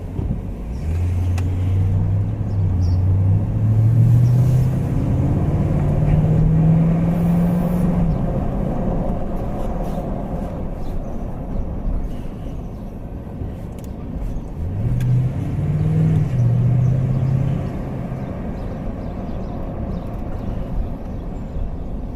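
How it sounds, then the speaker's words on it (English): A Maxus, a Chinese-made car, drives past, its engine note rising and sweeping upward as it nears and fades, followed by a second, shorter vehicle pass, loud and close. "Look, another Maxus, another Chinese car."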